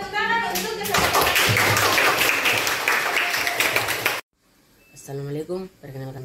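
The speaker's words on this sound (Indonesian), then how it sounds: "kita berikan aplaus, kita berikan tepuk tangan untuk kesepakatan" A crowd applauds, clapping hands in a dense, steady burst for about three seconds before it stops abruptly. A speaker talks before the clapping and again after it.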